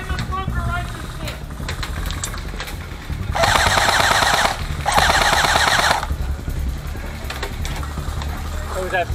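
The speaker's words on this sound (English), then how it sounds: "That's them firing back up. Yeah, they got the Gatling gun." A minigun Gatling gun in a video game war battle fires two sustained, loud rattling bursts back to back, with people talking over the gunfire and scattered shots around it.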